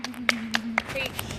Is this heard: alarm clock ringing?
no